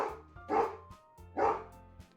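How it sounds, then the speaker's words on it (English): A dog barks twice, about a second apart, loud and close, with a low steady hum underneath. "My dog is barking like crazy right now."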